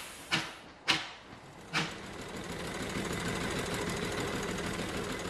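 A vintage engine on the road to Sheffield labours up a steep hill, giving a steady droning rumble after three sharp knocks or clunks at the start.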